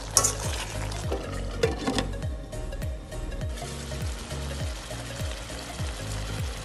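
Spicy cauliflower stir-fry for a south Indian dish cooking in a pan, with steady low frying and stirring scrapes, a few louder clatters near the start, no talking.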